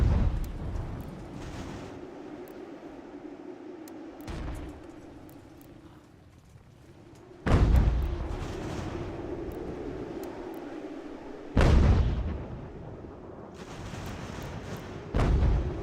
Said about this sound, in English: These are mortars.